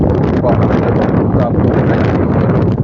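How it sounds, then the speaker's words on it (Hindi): Strong wind over the Solan hills in Himachal during a cold, misty weather change, a loud, steady roar buffeting the microphone without pause. "सोलन में तेज हवाएं इस वक्त चली हुई है और धुंध लगातार घनी होती जा रही है।"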